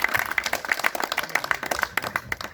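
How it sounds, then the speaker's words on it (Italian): A small audience at a poetry gathering in Sedini claps for Marco, with dense, fairly close hand claps in an uneven patter throughout and a faint voice underneath. "chiederei un applauso per Marco a nome di tutti"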